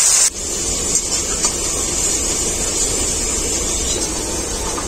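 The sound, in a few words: turmeric and spice water added to sizzling spice paste in pan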